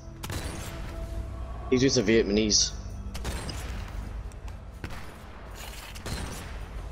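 Gunfire in Sniper Elite 4, a scattered series of sharp cracks and booms through a noisy battle background, mixed with a brief voice and other game sounds, with someone talking over it.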